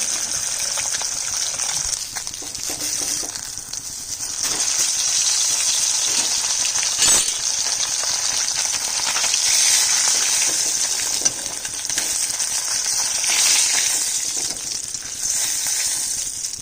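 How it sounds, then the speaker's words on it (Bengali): Four pieces of katla fish fry in hot oil, a steady crackling sizzle that rises and falls with bursts of spattering. It stays close and runs on without a break. "চার পিস করে ভেজে নিচ্ছি।"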